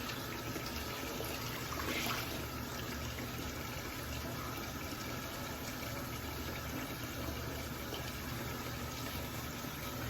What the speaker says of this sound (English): So we're running some hot water down here